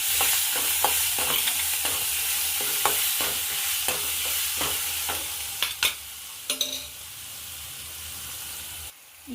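Green chillies fry in a pan for mango chitranna with a steady close sizzle, while a spoon scrapes and knocks against the pan in irregular strokes.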